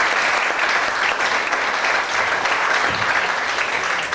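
An audience applauds at a press presentation of a sports club in Gaeta, a steady, dense roar of many hands clapping together, loud and continuous throughout with no talk over it.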